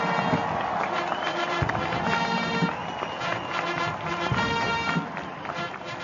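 Cannon salutes at the 2017 US presidential inauguration, deep booms spaced a few seconds apart, partly buried under steady crowd noise and distant cheering.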